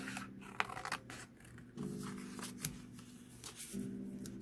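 Paper being cut with scissors for a journal, a close run of snipping and rustling strokes with soft handling noises between cuts.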